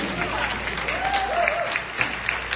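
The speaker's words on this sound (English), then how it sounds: "Brian Foltz, Ernie Strouch, you can clap if you want." An audience claps at the Plan Sedona kick-off community forum, a steady wash of applause lasting the whole moment with a faint voice and a brief whistling tone drifting over it.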